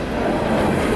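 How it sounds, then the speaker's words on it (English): A CSX eastbound empty coal train rolls past close by, a steady loud rumble of wagons and wheels on rails. "Eastbound empty coal train."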